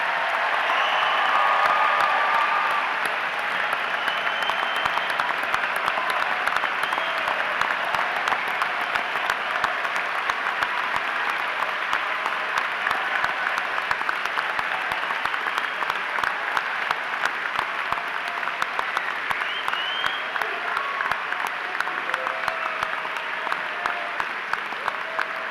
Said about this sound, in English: please join me in one last round of applause for our nation's newest military officers